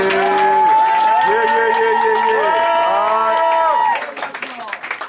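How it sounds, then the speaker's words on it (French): An audience at a Paris slam poetry session cheers and applauds a poet, with loud overlapping shouts and whoops over clapping that drop away after about four seconds, leaving scattered claps. "Et applaudissez le poète encore une fois."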